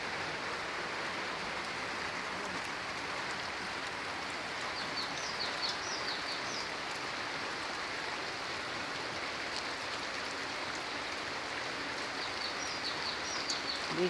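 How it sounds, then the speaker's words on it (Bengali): Steady rain falls over a Bangladeshi village, a soft continuous hiss of drops on surfaces, with a few bird chirps rising faintly over it now and then. "বৃষ্টি নামছে দেখেন।"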